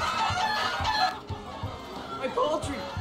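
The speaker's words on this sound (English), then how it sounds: "They're murderous chickens." Chickens clucking in the video game Minecraft: Story Mode, a busy stretch of game fowl calls and clucks with other game noise, fairly loud and continuous, with a short lull midway.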